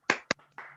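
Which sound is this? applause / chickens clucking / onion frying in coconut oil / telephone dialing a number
applause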